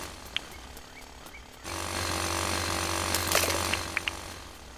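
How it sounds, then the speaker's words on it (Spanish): A power drill in the video game Dinkum starts abruptly with a dense, buzzing mechanical whir that runs steadily to the end, with a few sharp clicks scattered before and during it. "creo que una de las mejores cosas que pudieron poner aquí es este taladro"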